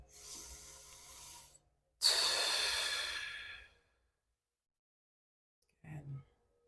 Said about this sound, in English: Taking those nice big deep breaths.